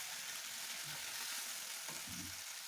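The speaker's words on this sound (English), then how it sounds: "Stir it to mix well with the other spices" Tomatoes, onions and spices frying in a pot, with steady sizzling broadband hiss throughout and a few soft stirring scrapes and knocks near the end, close and moderately loud.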